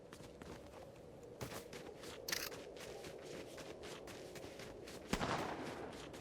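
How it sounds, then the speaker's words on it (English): Gunfire in a Fortnite Zero Build match, a few sharp, distant-sounding shots and short bursts scattered over a quiet game background with footstep-like tapping. "Sound like there's gunfire up here."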